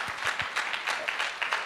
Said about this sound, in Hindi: एक बार चाहूँगा जोरदार तालियां हो जाएं अनुकूल सर के लिए